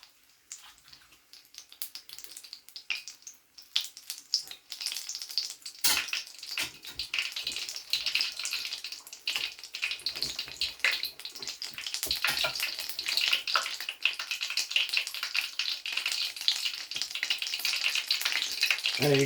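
Whiting fish frying in a pan, a steady broadband sizzle with crackles and pops that builds and stays fairly constant, close and moderately quiet, with no talking.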